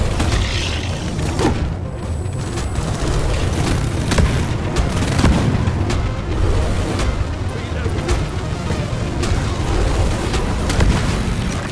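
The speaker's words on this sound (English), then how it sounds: "Go, sentry guns!" Dense, loud automatic fire from sentry guns in Deep Rock Galactic, with booms and chaotic combat noise running the whole time and voices talking over it.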